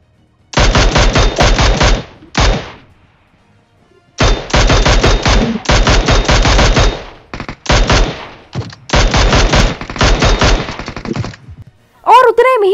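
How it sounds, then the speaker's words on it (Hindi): Automatic gunfire in the BGMI battle royale game comes in loud, sustained bursts, several long volleys with brief pauses between them, close and sharp, ending with a short electronic game sound. "आगे से फायरिंग हो रही होती है।"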